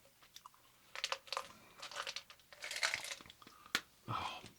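Gum being chewed right up close to a binaural microphone, with moist, crackly smacks and snaps in an irregular rhythm, quiet and intimate with no speech.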